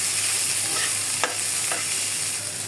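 Fish frying in a pan with chopped garlic and onion, being cooked for a fish bharta: a constant loud sizzle broken by two short sharp stirring clicks, with no one talking.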